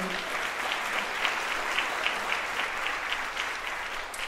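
Steady, dense audience applause at a university jazz ensemble concert, a sustained crowd of clapping hands heard alone without speech.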